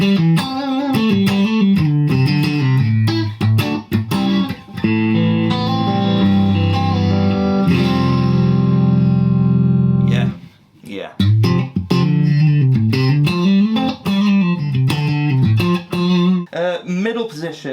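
PRS Silver Sky electric guitar played on the neck and middle pickup combination, ringing chords and single-note phrases sustaining loud and close, with a brief near-silent pause midway before the playing resumes.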